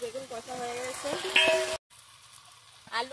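Eggplant and potato sauté with turmeric, salt and spices, a sizzle with utensil clinks that cuts out abruptly midway, then returns faintly with a brief scrape at the end.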